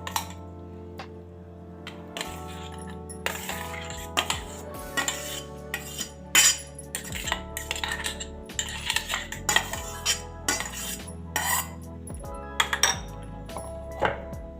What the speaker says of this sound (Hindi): अब हम इसे एक बाउल में पलट लेते हैं।